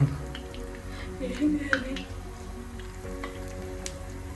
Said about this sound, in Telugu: ఇలా ఫ్రై చేసుకుంటున్నాను.